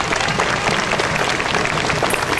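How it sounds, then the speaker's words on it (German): A crowd claps steadily at the outdoor unveiling of a metal sculpture in the Reckenfeld town centre, a sustained, even applause heard fairly close with no voices rising above it. "Jawohl, da kann ruhig einmal geklatscht werden."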